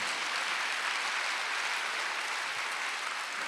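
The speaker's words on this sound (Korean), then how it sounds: "박수 하세요." A church congregation claps together during a Sunday worship sermon, producing a dense, steady burst of applause that fills the room for a few seconds with no voice over it.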